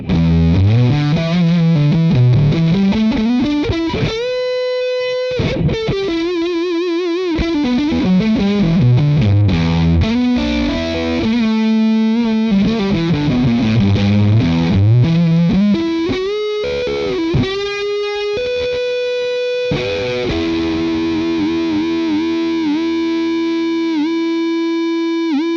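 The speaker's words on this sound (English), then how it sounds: "So that's the Catapult. Normally that's a lighter gain overdrive for me." An electric guitar runs through a Catapult overdrive pedal set to high gain, with heavily distorted bends, slides and sustained notes played loud, plus some chord stabs, for about twenty-five seconds.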